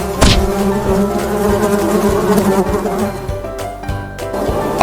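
A bee buzzes loudly and close up, a continuous droning hum that wavers slightly in pitch, with no voices.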